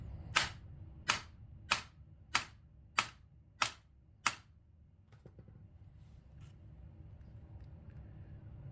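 A hammer strikes a steel punch seven times at an even pace, staking a castle nut; the sharp, close metallic hits are followed by quiet background hum.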